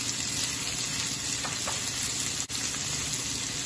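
Thinly sliced onions sizzling steadily in a hot pan with curry leaves, a constant close-up frying hiss with faint stirring, no talk.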